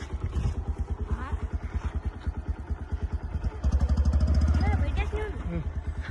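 Motorcycle engine idling and revving with a steady low putter, loud and close, as five riders climb onto one bike near a school; several people talk and call out over the running engine.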